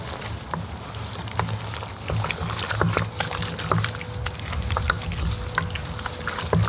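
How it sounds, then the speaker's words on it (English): Blue cheese base for smoked buffalo chicken dip being stirred, a spoon squelching and scraping through the thick mixture in irregular strokes with soft taps against the bowl, close and moderately loud. "And we're just gonna give that a stir."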